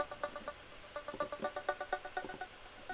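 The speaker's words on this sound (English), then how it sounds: "then there's this really kind of fluttery synth in here," Fluttery synth sample lifted from an original song, a quiet rapid stuttering pulse of bright tones in a fast uneven rhythm, faint and without talk.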